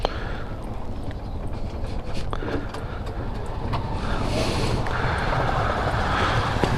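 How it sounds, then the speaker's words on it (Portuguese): A motorcycle is ridden with an odd noise from the primary drive, giving a constant loud roar of engine, road and wind noise close to the microphone throughout. "esse barulho da moto tá me incomodando pra caramba"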